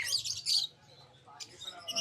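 Small birds chirp and tweet at a bird market in Hulong Duhat Plaza, Malabon, with a few quick, faint calls near and far in a short burst.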